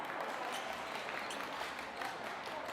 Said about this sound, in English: Crowd is involved now.